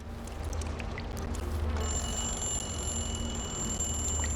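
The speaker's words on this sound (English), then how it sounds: "Can I unset that alarm?" An alarm goes off in the video game Dishonored: Death of the Outsider, a sustained high ringing tone that starts partway through and continues steadily over low background ambience.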